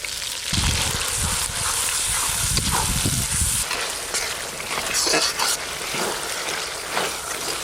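Whole garam masala, chopped onion and ginger-garlic paste fry in hot oil for a chicken curry, giving a steady, close sizzling hiss with occasional stirring scrapes and bursts of spatter throughout.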